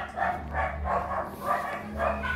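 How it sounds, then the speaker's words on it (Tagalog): A pet dog barks playfully in short repeated bursts, about four or five barks spaced roughly half a second apart, close to the microphone, with a low background hum and no talk. "Kinukulit na naman ako ng aso ko."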